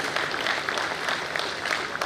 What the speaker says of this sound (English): Can you give me a round of applause, please?